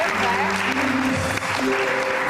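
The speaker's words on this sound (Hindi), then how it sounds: "बहुत सारी तालियां शुमाइला के लिए" A television studio audience applauds for a young girl guest named Shumaila, a dense, steady wash of clapping that holds at even loudness with no gaps.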